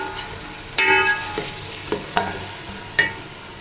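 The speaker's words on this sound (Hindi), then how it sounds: "ये तब तक हमारे जो प्याज है ना वो फ्राई होने तो शुरू हो गया।" Onions frying in an open cooking pot for a tinde gosht curry, with a steady low sizzle broken by several sharp stirring clatters and scrapes, close and fairly loud, no talking.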